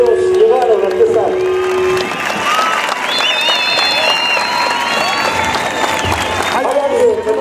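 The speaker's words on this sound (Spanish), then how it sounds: "Yo quiero pedir un aplauso grande para quien verdaderamente se rifa la vida." A crowd at a ranch riding event in Jiquipilco, State of Mexico, applauds the riders loudly throughout. The claps and cheers are dense, and a whistle-like tone and some scattered voices ring out over the clapping.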